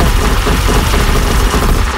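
Dense, loud gunfire in the Blox Fruits video game, a continuous clattering barrage of rapid shots and booms with no clear pauses, heard alone without talk.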